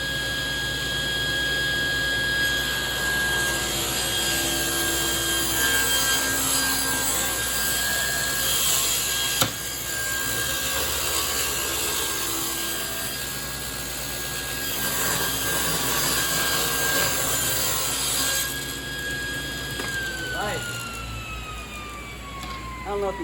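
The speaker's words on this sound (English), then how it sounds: "we're going to rip this side here against the fence" A table saw rips wooden trim against its fence, the blade holding a loud, constant high whine with a steady motor hum beneath and shifting cutting noise throughout a long pass, before the blade note drops near the end.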